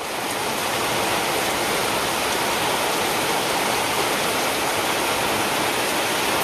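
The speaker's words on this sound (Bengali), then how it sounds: "তোমরা শুধু বৃষ্টির আওয়াজটাই শোনো, যে কি প্রচণ্ড বৃষ্টি হচ্ছে" Heavy rain pours down steadily over a village in rural Bengal, a dense, loud, unbroken roar of water that fills the whole clip with no voices.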